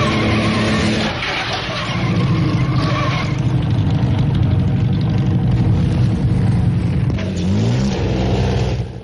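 A 1914 racing car engine revs hard on a twisting 23-mile road circuit, a loud, continuous roar with rising and falling pitch sweeps near the end and no voices.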